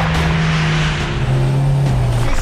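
A record-setting truck on Goodyear tires accelerates hard down a track during a world speed record run, its loud, close engine drone holding steady and then stepping in pitch as it gains speed.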